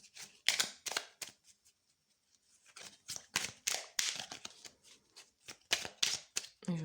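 Tarot cards being shuffled and drawn at close range, with repeated crisp riffling bursts separated by brief quiet gaps, some soft handling noise between the shuffles.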